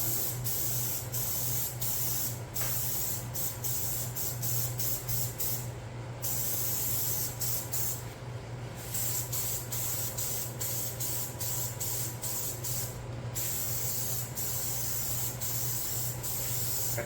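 Cheap store-bought clear coat sprays from an aerosol can onto an old plastic Little Tikes toy car in a steady, loud hiss that runs continuously, broken only by a few brief pauses.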